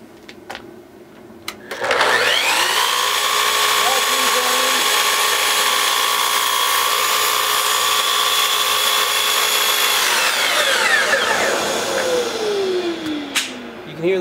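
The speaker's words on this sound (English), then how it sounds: "You can hear the vacuum continues to run for a few seconds after the saw quits." A power saw whines loudly cutting through wood trim for about eight seconds, then spins down, with a dust vacuum humming before and after.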